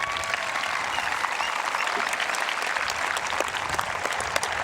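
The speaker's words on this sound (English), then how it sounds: "Let's have a round of applause for this group." Steady applause from a large crowd at a high school graduation ceremony, dense and continuous clapping throughout with no voices standing out.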